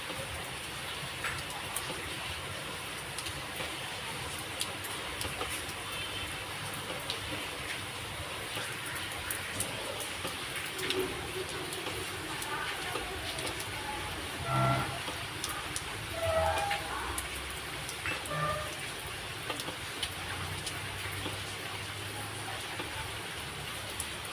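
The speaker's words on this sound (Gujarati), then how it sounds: "જો એમ તો સારો વરસાદ આવ્યો," Heavy rain pours down steadily, a dense, even hiss with water running through the street, continuous and fairly loud throughout with faint scattered knocks.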